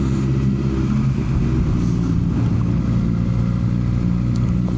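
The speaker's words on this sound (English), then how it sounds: "loud exhaust. I mean, look at it." Car with an exceptionally loud exhaust, a deep steady rumbling drone that stays loud and close without easing for the whole stretch.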